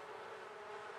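Bees in The Sims 4 give a soft, continuous buzzing hum for a brief moment, faint and steady with no voices.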